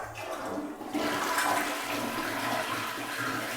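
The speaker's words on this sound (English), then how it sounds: "Yeah, you better flush it first." A toilet flushes with a rushing, gurgling surge of water that starts abruptly and keeps draining steadily, heard close in a quiet room.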